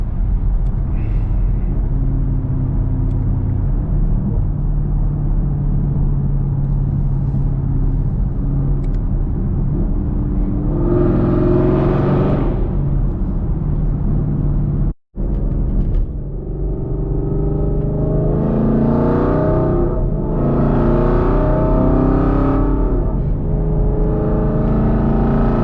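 A 6th-gen Camaro SS making about 500 wheel horsepower on Mickey Thompson drag radials, with a steady loud engine rumble and road roar heard from inside as it drives on a highway, including a brief dropout midway and rising revs later.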